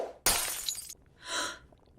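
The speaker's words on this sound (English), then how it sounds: "Mrs. Vale, a real diamond wouldn't shatter from being dropped." A diamond shatters on a hard floor after being dropped: a sharp, loud crack and burst of breaking fragments, followed a moment later by a softer, airy gasp-like rush.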